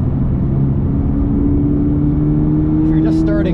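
A 2022 Toyota GR86 sports car at speed on a race track, its engine a steady loud drone with strong low harmonics filling the cabin, holding constant throughout without pauses.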